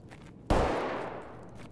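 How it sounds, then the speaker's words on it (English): A single shotgun blast in Escape from Tarkov, one sharp crack that fades into a long echoing tail, somewhat distant and fairly quiet. "That sounded like a shotgun."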